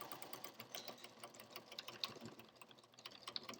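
A sewing machine backstitches the edging into the binding of a fabric mask, a quiet, close, rapid mechanical whirring with fast stitching clicks over a few seconds.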